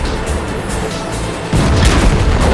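Tank cannon fire in World of Tanks, heard from a VK 45.02A on Sand River: deep rumbling engine noise, then a heavy booming shot about halfway through, followed by a sustained louder roar.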